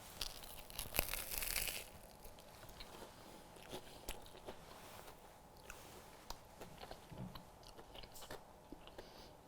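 Someone bites into a lobster roll on a crispy toasted bun, with a crunchy bite up close, followed by quiet chewing and small crinkling noises.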